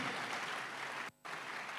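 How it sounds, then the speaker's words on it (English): Conference audience applauding at an e-learning week closing session, a faint, steady wash of clapping broken by a brief dropout near the middle. "Let's clap for all our resource persons again."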